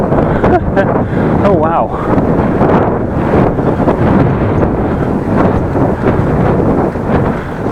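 Strong headwind roars steadily across the microphone of a bicycle on an uphill countryside ride, loud and continuous throughout, with a voice briefly exclaiming over the gusts.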